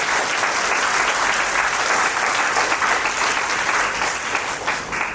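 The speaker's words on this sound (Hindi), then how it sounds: "फिर तो अपने लिए ही ताली बजाइए।" A large youth audience at an Indian Y20 peace walk and talk event claps loudly and steadily, a dense sustained burst of applause that tapers slightly at the end, with no speech over it.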